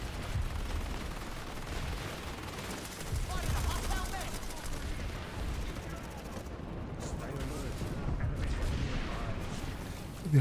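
Sustained gunfire in the online shooter PlanetSide, a dense, continuous clatter of many weapons firing at once across the whole stretch, mixed with speech.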